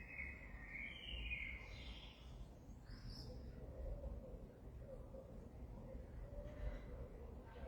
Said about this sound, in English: There's birds singing.